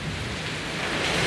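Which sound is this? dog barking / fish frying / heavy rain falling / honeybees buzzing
heavy rain falling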